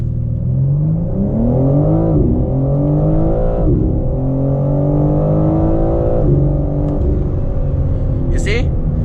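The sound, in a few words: BMW M4 Competition xDrive accelerating hard from launch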